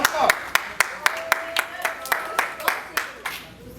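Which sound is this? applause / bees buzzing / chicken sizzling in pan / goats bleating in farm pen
applause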